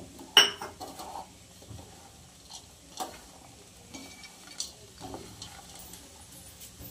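Salt being mixed into khichdi ingredients in a pot: scattered metallic clinks and taps of a spoon against the vessel, a sharp knock near the start followed by lighter, irregular clicks, close and without talk.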